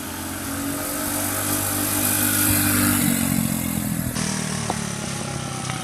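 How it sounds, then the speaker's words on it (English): Vintage minibike engine on a test run, running steadily and loud throughout with a constant drone and slight revving swells, close to the listener with no talk. "Here we go, mini bike run number"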